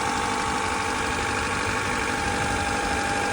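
Honda CB7 engine idling steadily while its cooling system bleeds, a loud, close, even mechanical hum with no talking over it.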